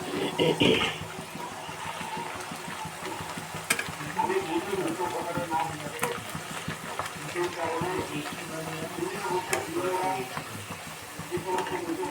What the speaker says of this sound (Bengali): আমার দুটো করে ভাজা হয়ে যাচ্ছে